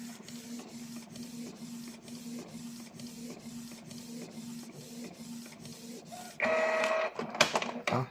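An inkjet printer printing a two-sided business card at high quality, a steady mechanical whirring with regular clicking carriage passes, then louder feeding and a brief whine near the end, close and alone.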